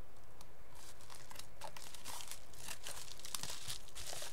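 AliExpress parcel packaging crinkles and rustles as it is opened, close plastic wrapping crumpling in continuous bursts with a few sharper tearing crackles, no talk.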